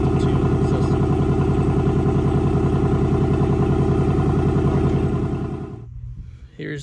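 A 2024 Ford Mustang GT Premium idles through its factory stock, non-active exhaust with a loud, even, throbbing burble that holds steady for several seconds before suddenly cutting off, leaving near silence and a faint thump.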